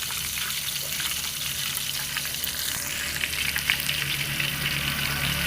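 Fish spices sizzle and crackle in hot oil in a pan, a loud, dense frying hiss with occasional stirring scrapes and pops, no voices.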